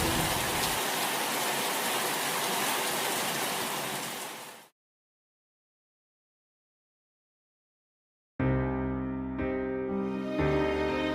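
Steady heavy rain pours down loudly for about four seconds and then cuts off abruptly, followed by silence and then unrelated music.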